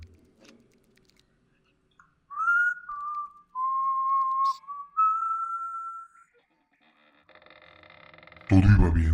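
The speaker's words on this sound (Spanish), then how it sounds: "me puse a silbar." A person whistling a slow, wavering melody of a few sustained notes, clear and close in a quiet room, followed by some faint clicks and a brief loud rustle.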